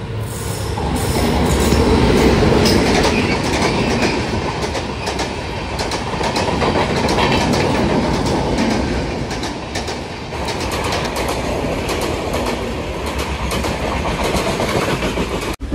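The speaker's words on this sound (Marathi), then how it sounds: "आपली चिपळूण मेमू ट्रेन." Diva to Chiplun MEMU electric multiple-unit train running along a rainy Konkan line, a steady loud rumble of wheels and carriages with rhythmic clickety-clack and occasional wheel squeal, no voices.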